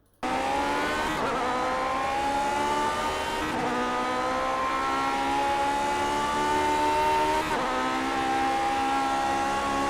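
Lotus 49 race car in iRacing at Le Mans, its engine a loud continuous high-revving whine held on throttle, with brief dips and pitch drops at gear changes or lifts and no talk over it.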